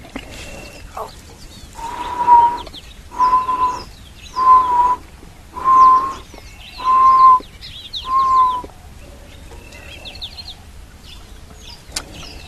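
A bird calls repeatedly on a live safari, six loud, harsh, crow-like caws spaced roughly a second apart over faint background chirps, then quiet.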